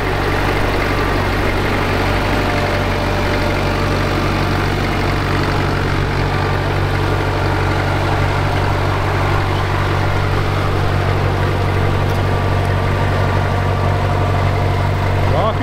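An IMT 560 tractor pulling a heavy disc harrow across a field, its diesel engine a loud, constant low drone that runs without break throughout.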